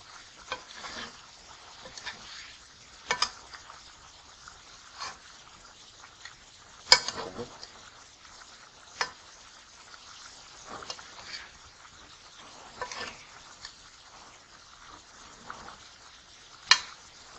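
Parsley tossed and stirred in a frying pan, a faint sizzle under repeated light scrapes and clatters of a utensil, with a few sharper knocks scattered throughout.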